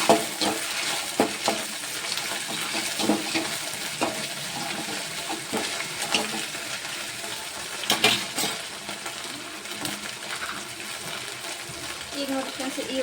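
Cabbage kebab mixture with tomato sauce being stirred in a pan, soft scraping and faint sizzling heard intermittently under a voice.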